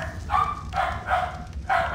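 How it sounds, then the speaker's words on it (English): Dogs bark in the survival game ARK: Survival Evolved, giving about four quick, close barks in an uneven rhythm over a low background hum. "Dogs are going nuts."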